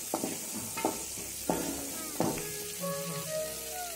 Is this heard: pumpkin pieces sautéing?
yes